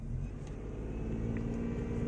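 A Nissan Magnite car rumbles low and steadily as it starts and pulls away, its engine hum close and even throughout with no voices.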